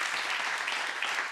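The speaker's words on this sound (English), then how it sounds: "you can applause also for our friends on the other side of the planet." Audience applause at a design conference, a steady wash of many hands clapping at moderate level, continuous and without speech for the whole moment.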